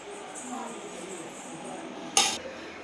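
Chicken biryani being mixed in a pot, with soft scraping and stirring and one short, sharp metallic clink against the pot, all fairly quiet over a low background.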